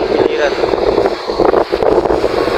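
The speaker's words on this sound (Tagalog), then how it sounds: "Hangin ang malakas ngayon dito." Strong typhoon wind buffets the microphone in Biliran province, a loud, continuous roaring rush with gusty surges and brief dips, filling the whole stretch without pause.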